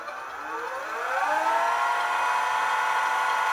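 An Option-O Lagom 01 coffee grinder running at its lowest RPM, giving a steady whirring motor hum that rises in pitch as it spins up and then holds an even drone, close and alone without talk.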